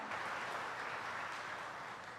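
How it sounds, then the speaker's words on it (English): Soft, steady applause from a crowd, a dense continuous patter of clapping heard at a distance with no voices over it. "Let's give all of them a round of applause"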